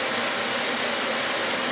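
Dyson DC40 Mk1 vacuum cleaner motor running, a loud, steady, close whine and roar with no break.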